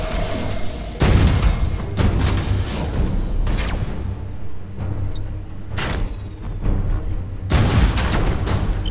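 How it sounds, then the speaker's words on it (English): Warship guns in Battlefleet Gothic: Armada 2 fire in heavy, booming volleys, loud broadband blasts striking roughly every second or two over a constant low rumble. "All ships ready to fire at will."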